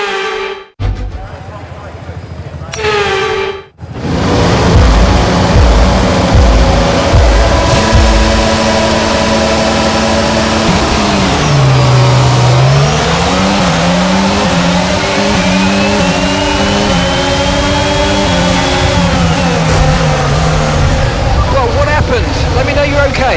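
F1 racing cars on a formation lap at the Australian GP in the F1 22 game: a couple of short engine blips, then a loud sustained engine drone that dips and rises in pitch as the car slows and accelerates.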